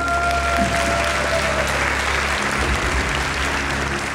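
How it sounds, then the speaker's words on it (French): Steady, dense applause from a large audience fills a hall at the ENSMM 2016 graduation ceremony in Besançon, continuing unbroken and loud throughout. "Bravo à Théo, applaudissez-le."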